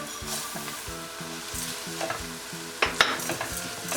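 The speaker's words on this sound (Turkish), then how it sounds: "Bulguru da kavurmak istiyorum güzelce." Bulgur sautéing in a pan with onion, tomato paste and peppers, a close, continuous sizzle with rhythmic stirring scrapes and a couple of sharper clinks of the utensil.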